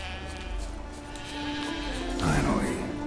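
Sheep bleat in Witcher 3, wavering cries over game music and ambience, rising more clearly toward the end, with speech present.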